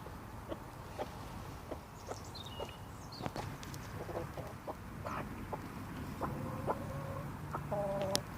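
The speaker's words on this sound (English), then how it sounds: "Such a sweet little chicken." Soft clucks and low murmuring calls from a hen at a winter allotment, a series of short, scattered notes over a quiet outdoor background, fairly close but faint, with no talking.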